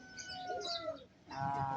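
Racing pigeons landing at the loft; faint fluttering and soft cooing and chirps close by, with a brief lull and a low rustle midway.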